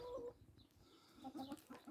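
A chicken clucks softly in short bursts on a free-range chicken farm, a few quiet clucks close by after a brief higher call at the start.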